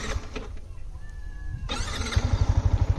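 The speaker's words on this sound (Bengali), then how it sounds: "তোমাদেরকে আওয়াজটা শোনাবো, বাইকের নয়েজটা শুনে নাও একবার।" A 2024 Yamaha MT-15 motorcycle engine starts up close by, then settles into a steady idle with regular low thumping pulses.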